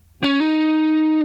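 A single electric guitar note plucked and then raised by a quick hammer-on, ringing out steadily and loud with a slightly distorted tone.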